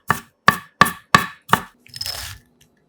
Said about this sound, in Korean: 양파 반 개는 칼집 여러 번 넣고 작게 잘라주고